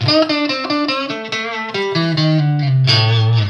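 An electric guitar runs through a Boss Katana amp with the booster/overdrive engaged, playing a loud, distorted riff of quick picked notes that settles into sustained lower tones, with no talk over it.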